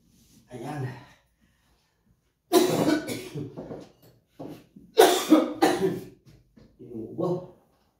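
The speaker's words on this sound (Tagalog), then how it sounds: "Inuubo." A person who is sick from the intense cold coughs in separate harsh bursts of two or three coughs each. The bursts are close and loud, with quiet gaps in between and some faint breathing.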